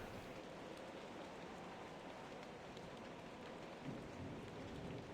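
Steady heavy rain pours down in The Bard's Tale, a dense constant hiss with a low rumble of thunder rolling in near the end, no voices over it.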